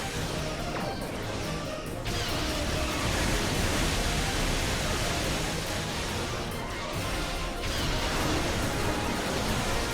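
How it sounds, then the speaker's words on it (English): A tractor beam effect fires in the space combat game Star Trek Online, a loud, dense, steady rushing roar that swells after about two seconds and holds for the rest of the stretch with no talking. "Tractor beam!"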